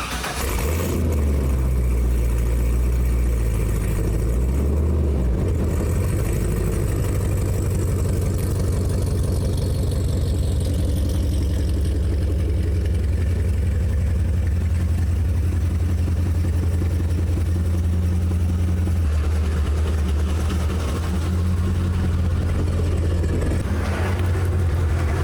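A C5 Corvette's V8 starts after an oil change and settles into a loud, steady, deep rumbling idle close by, with slight fluctuations and a small rev near the start.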